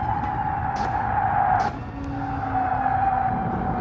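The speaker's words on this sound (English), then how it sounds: "you can hear the car topping out there, so losing lots of time, unfortunately" Race car engine in GT Sport topping out along the seaside Dragon Trail track, a loud sustained high engine whine with a brief shift dip midway and tire noise, no talk.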